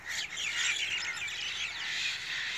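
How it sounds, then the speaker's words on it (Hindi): Many birds chirp and twitter together in a dense, continuous evening chorus at a rural dera in Punjab, steady and fairly loud, with no talking. "मोहब्बत के तराने सुनिए, गीत सुनिए। ये खूबसूरत शाम जो है ये इन्हीं परिंदों के नाम है।"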